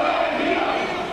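A large crowd of East German demonstrators chanting together, a dense, sustained roar of many voices filling the whole brief moment at a steady loud level.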